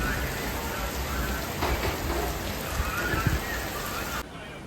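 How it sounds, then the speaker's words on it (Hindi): Evening rain falling steadily in Vrindavan, a dense continuous hiss of drops at moderate level, with faint background voices and a few small knocks, ending abruptly near the end. "देखो आज बारिश कैसी हो रही है।"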